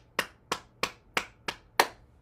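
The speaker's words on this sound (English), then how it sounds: "I'm using a cupped hand, and it makes kind of a hollowy sound" Six hollow claps from a cupped hand striking the body, evenly spaced about a third of a second apart, close and crisp, during a morning bouncing exercise routine.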